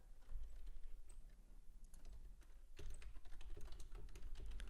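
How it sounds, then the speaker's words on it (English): Quiet computer keyboard typing, bursts of soft key clicks with a short pause midway, heard faintly against a low background hum. "if you do hear typing, that's just me making the alerts to the community"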